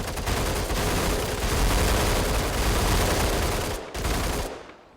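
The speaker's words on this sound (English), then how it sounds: "Fire all the bullets." Sustained heavy gunfire during a tower assault in MENACE, a loud continuous barrage of overlapping shots with a brief gap before a final burst that tails off.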